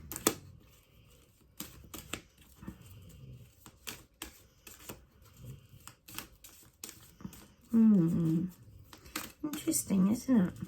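Tarot cards being shuffled in quick riffling bursts, crisp flicking and tapping close by, with a brief spell of speech partway through.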